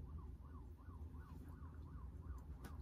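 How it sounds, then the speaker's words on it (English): An emergency vehicle siren wails with a steady rising and falling pattern, faint and distant on a busy street, under low traffic rumble. "I live on a busy street, and so there's a lot of sirens"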